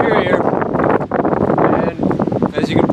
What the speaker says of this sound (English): it's pretty windy. It's a cold wind coming off the lake.